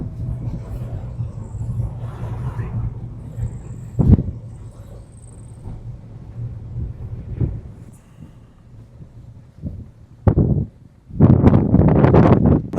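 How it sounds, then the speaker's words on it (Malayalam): Strong wind blows across a scenic hilltop viewpoint near Tenkasi, a steady low buffeting roar with gusts, then heavy close blasts hitting the microphone in the final seconds. "നല്ല ഉഗ്രം കാറ്റടിക്കുന്നുണ്ട്"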